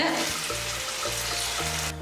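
Water poured into a pot of cooking mutton, a short steady splashing pour with a sizzling bubble underneath, close and fairly loud.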